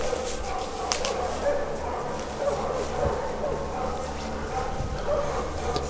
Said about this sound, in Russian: А вот знаменитые собаки Янова.